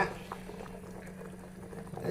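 Coconut curry bubbling in a pot, a soft continuous boiling patter with faint low hum, steady and close throughout.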